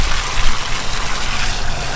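Water from a homemade waterfall table with a propane fire runs steadily over the top edge, a constant close trickling and splashing wash with no pauses and no voices.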